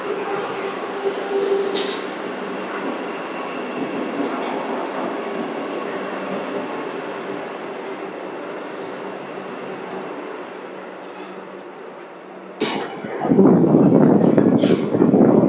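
The Puri Tirupati Express, train 17479, pulls out of Ongole station with a steady rolling rumble and occasional squeals and clanks, then a sudden louder, closer burst of rattling noise near the end.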